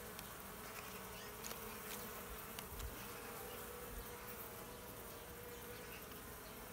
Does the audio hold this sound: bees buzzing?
yes